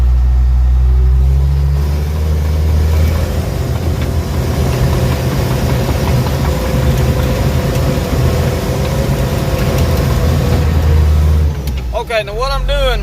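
A 700 dozer's diesel engine idling and rumbling close and loud while being loaded onto a trailer, a steady low drone with brief shifts in revs, and someone speaking over it.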